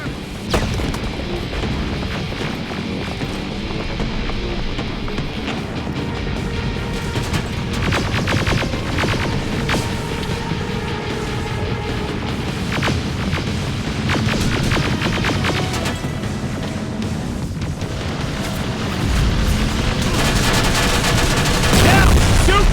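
Sustained gunfire rolls through a big downtown battle in Terminator Resistance, dense volleys and booming impacts layered continuously at high volume, swelling louder near the end.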